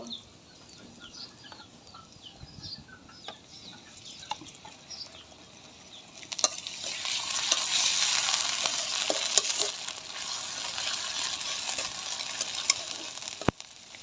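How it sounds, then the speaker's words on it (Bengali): Ginger garlic paste fries with browned onions for a country chicken bhuna, a faint sizzle with light utensil taps that swells into a loud, dense hiss midway, with a sharp knock near the end. "তো পেঁয়াজটা আমার বাদামি কালার হয়ে গেছে এখন এখানে আমি আদা রসুন বাটা দিয়ে দিব"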